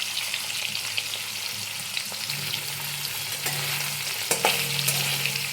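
Cubes of paneer fry in hot oil until lightly browned, a constant close sizzle with occasional crackles and a few scraping stirs, no voices.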